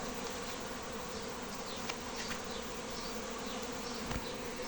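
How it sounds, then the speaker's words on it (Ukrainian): Honey bees buzz around two hives in what may be a swarming event, a dense, steady drone filling the air throughout with a few brief louder passes of individual bees close by. "Я вже був подумав, що, можливо, будуть роїтися. Але це в двох вуликах одночасно."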